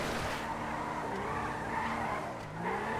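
A car drifts in GTA 5 with a long, steady tire squeal over a loud engine roar. The noise holds at a constant level with no voices.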